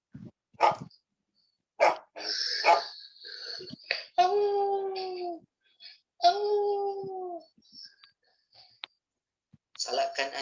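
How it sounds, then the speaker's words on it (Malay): A dog in an animated story about a shepherd, a lost lamb and a wolf barks loudly in several sharp bursts, with drawn-out howling tones between them and a voice speaking alongside. "Salakan anjing yang kuat menakutkan serigala."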